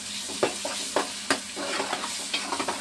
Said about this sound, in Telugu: వేసిన తర్వాత ఇది మొత్తం చక్కగా కలపాలి.